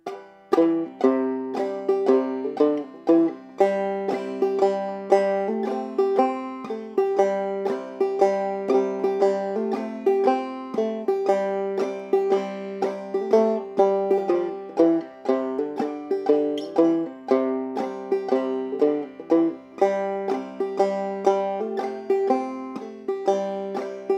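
A plucked clawhammer banjo plays "Big Rock Candy Mountain" alone, a steady, bouncy tune with a driving rhythmic strum-and-pluck pattern repeating for the whole stretch.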